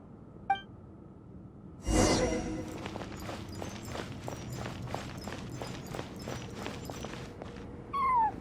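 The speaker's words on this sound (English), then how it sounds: "I followed the cat's cries to find my way out." A cat cries in the video game Genshin Impact: a brief meow rings out early and another near the end, while a steady run of rhythmic footsteps patters between them at moderate loudness.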